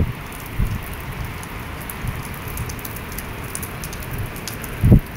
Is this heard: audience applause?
no